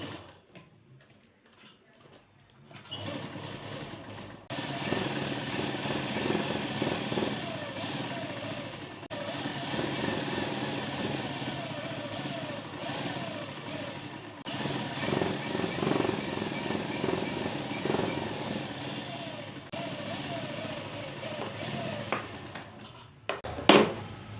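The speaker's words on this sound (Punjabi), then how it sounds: "ਇਹਦੀ ਵੀ ਠੀਕ ਉਸੇ ਤਰੀਕੇ ਨਾਲ ਆਪਾਂ ਸਿਲਾਈ ਲਗਾ ਦੇਣੀ" A sewing machine stitches the lining into a salwar, a close, steady mechanical whirring hum for about twenty seconds, with short pauses and someone speaking over it.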